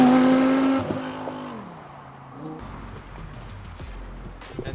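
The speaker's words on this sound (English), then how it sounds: "The turbo sound is all you hear. It's just the whooshing and the spooling." Twin-turbo Audi R8 V10 pulling away, a loud high whine and rush that falls in pitch and fades, followed by quieter engine noise with short bursts near the end.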